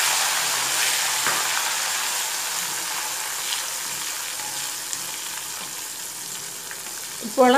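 Chopped jackfruit frying in hot oil, with a steady, dense sizzle and crackle of bubbling that runs unbroken and close throughout after salt water is added to the pan.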